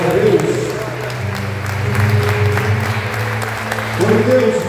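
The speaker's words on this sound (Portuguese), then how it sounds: "Aplauda o nome do Senhor Jesus" A church congregation applauding together during a service: sustained, dense clapping over a steady tone of music, swelling slightly at the start and end.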